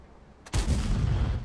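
A tank cannon fires once in World of Tanks, a single sharp, loud blast after a quiet moment, followed by a sustained heavy rumbling tail.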